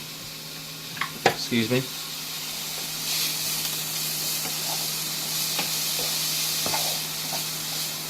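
Pancetta sizzles in a dry pan with no oil, a steady hiss with a few clattering knocks near the start and a brief spoken phrase over the frying.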